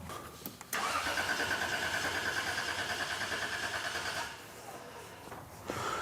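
A car engine cranks with no ignition: a steady, rhythmic starter churn begins abruptly, runs about three and a half seconds without catching, then drops to a quieter background before a brief noise near the end.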